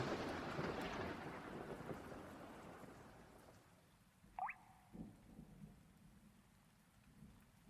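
Heavy rain with a thunderstorm rumble roars loudly at first, then slowly fades over several seconds, leaving quiet air broken by a few brief faint sounds; no one speaks.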